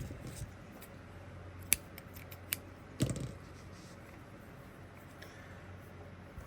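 Scissors snipping a yarn tail on a crocheted bucket hat, a few faint sharp clicks and one louder cut with a rustle, quiet and close against a soft room hum.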